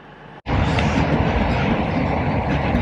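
Train in motion heard from on board, a dense steady rumble of wheels and carriage noise with faint rhythmic clatter, loud and continuous after a brief cut near the start.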